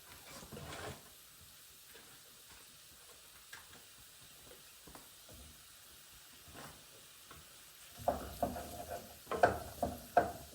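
A knob of butter melts in a pan beside vegetables, giving a faint, steady sizzle with scattered ticks, then louder bursts of crackling and clattering near the end.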